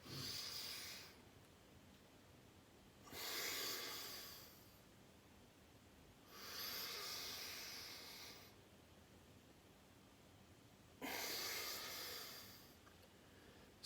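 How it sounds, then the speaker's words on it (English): Forceful nasal breaths of Bhastrika bellows pranayama with raised arms, four long hissing inhalation bursts spaced a few seconds apart, close and clear with quiet gaps between, no talking. "And how we do Bhastrika? We raise our hands and inhale."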